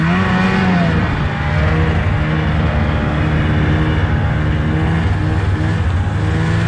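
A 2003 Polaris Indy snowmobile engine runs hard at a steady high drone, close and loud without pause, with the pitch shifting slightly as it holds speed.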